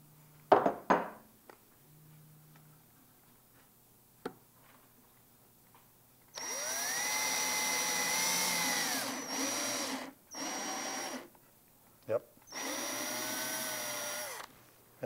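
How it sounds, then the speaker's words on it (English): A power drill spins a nail chucked as a bit into wood while building a birdhouse, giving loud whining bursts: one long run, then several shorter ones with pauses, after some faint handling clicks at the start. "Now use the nail to drill a hole right about there."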